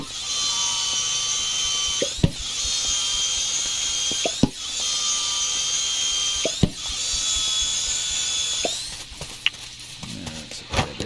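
Planks being sawn at a sawmill in the video game Dinkum: a steady whirring mechanical buzz in long runs, broken by sharp clicks roughly every two seconds, moderately loud with no talk.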